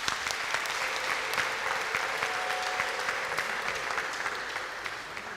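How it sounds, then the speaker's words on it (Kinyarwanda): Steady applause from a church congregation honouring the head priest at a ceremony in Gikondo, a dense, even wash of many clapping hands sustained throughout at moderate loudness. "Muntize amashyi dushimire Padiri mukuru"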